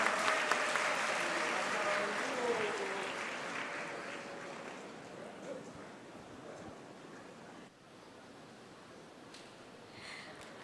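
Audience applause at a conference event rings out for a deputy foreign minister, a dense wash of clapping that is loud at first then gradually thins and fades, with faint talk underneath.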